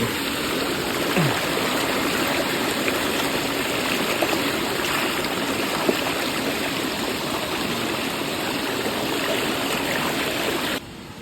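Water pours continuously from a jungle waterfall into a flowing stream at a mountain campsite, a dense, steady rushing roar filling the whole span with no break.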